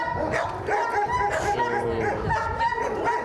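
Several shelter dogs bark, yip and whimper together, overlapping close and loud in a busy kennel chorus.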